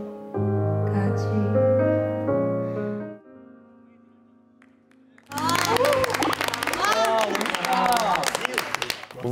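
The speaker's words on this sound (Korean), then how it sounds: "우리 단체 박수 나온 것보다 예리 한숨한 게 박수 더 나왔습니다." Audience applause and cheering erupt after a solo stage performance of a sigh-themed ballad dance, a dense, loud wash of clapping following a sustained musical passage and a quieter moment.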